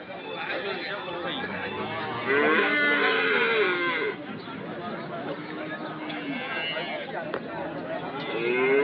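Cattle at the Sunday cattle market in Anthiyur give a loud, drawn-out moo close by, with further lowing amid steady crowd chatter and people talking nearby.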